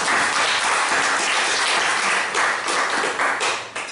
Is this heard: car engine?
no